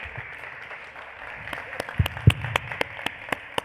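Audience applause at the end of a startup pitch night at an accelerator expo in Armenia, a steady crowd clapping with several sharper, louder claps and whoops standing out up close.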